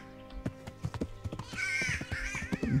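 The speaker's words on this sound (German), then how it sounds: "Die Vögel machen sehr komische Geräusche hier." In the medieval video game Kingdom Come: Deliverance, crows give a string of harsh caws over soft ambient game sound, with a longer drawn-out call near the middle.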